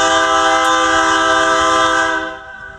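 A train sounds its horn in one long, loud, sustained chord that holds steady and then fades out near the end, with a low rumble underneath and no voices.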